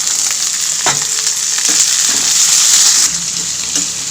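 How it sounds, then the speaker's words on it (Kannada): Field beans (avarekalu) fry in a little oil with a steady, bright sizzle, broken by a few soft stirring knocks from a spoon in the pan. "ಈಗ ಅವರೆಕಾಯಿನ ಈ ಥರ ಸ್ವಲ್ಪ ಎಣ್ಣೆಯಲ್ಲಿ ಫ್ರೈ ಮಾಡ್ಕೊಬೇಕು"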